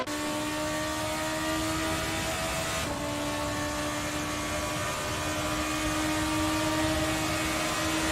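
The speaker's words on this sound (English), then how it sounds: "it's a beautiful sound from those V8 engines" V8 race car engines in the Assetto Corsa racing game, a continuous high-pitched engine drone with a shift in pitch partway through, sustained and fairly loud with no talk.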